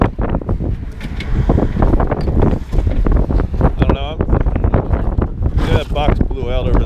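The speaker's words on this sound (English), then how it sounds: "Nice and windy." Gusty wind at an outdoor flea market pummels the microphone with loud, uneven rumbling bursts, while people talk close by throughout.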